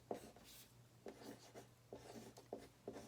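Pencil writing on paper: a run of short, scratchy strokes in quick, irregular bursts, close and fairly quiet over a low steady hum.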